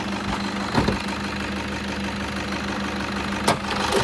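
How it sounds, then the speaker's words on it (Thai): A 2013 Toyota Hilux Vigo Champ pickup with a 2.5 D4D VN turbo diesel engine idles nearby, a steady low rumble with light diesel clatter and a couple of brief knocks, no voices. "ขนาดนี้ผมสตาร์ตตัวรถอยู่นะครับ ตัวเครื่องรุ่นนี้นะครับจะเป็นตัวเครื่อง D4D VN Turbo"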